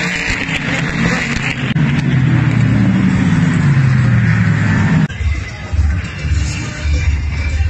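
Race cars roaring past up close on the Daytona racetrack, a loud sustained engine rush with a pitch sweep as a car passes, then a sudden drop into quieter rumbling and another passing burst.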